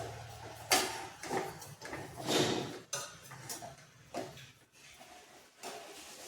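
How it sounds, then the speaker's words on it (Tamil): Moong dal puttu with sugar being stirred in a pan, a spoon scraping and knocking against the metal in uneven bursts at close range with short quiet gaps, and no voices. "சர்க்கரையை சேர்த்துக்கிறேன். சேர்த்துட்டு 1 நிமிஷம் கிண்டி விட்டுடலாம்."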